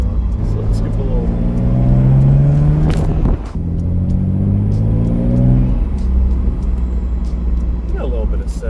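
A 3000GT car engine with pre-turbo intake pipes and a downpipe revs up twice with a break between, rising to a loud droning pitch each time before easing back toward idle.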